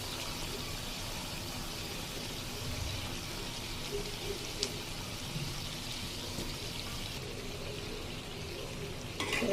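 Rohu fish frying in a spiced masala in a pan, a steady broad sizzle and bubbling hiss that holds evenly throughout, close and moderately loud, with no talking.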